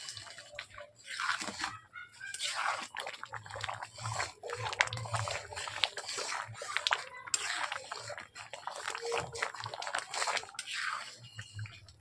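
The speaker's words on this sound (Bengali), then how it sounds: "জ্বালন কমিয়ে এইভাবে ঘন ঘন করে নাড়তে থাকবো।" Thick bhoger khichuri stirred frequently in a pot over low heat, with repeated wet, squelching scrapes in an uneven rhythm, close and fairly quiet, no voices.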